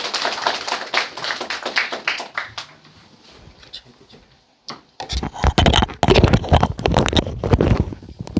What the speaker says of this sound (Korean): 박수 맞으시기 바랍니다